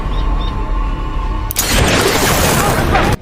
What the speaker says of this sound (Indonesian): akhirnya salah satu dari mereka menembak teroris itu